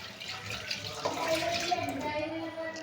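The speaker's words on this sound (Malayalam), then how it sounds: "ഫസ്റ്റ് മാങ്ങ നല്ല വൃത്തിക്ക് കഴുകുക." Tap water runs steadily while mangoes are washed for a homemade mango pickle, a continuous close splashing rush with a voice speaking over part of it.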